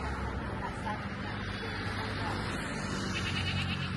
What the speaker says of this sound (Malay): Kambing tu.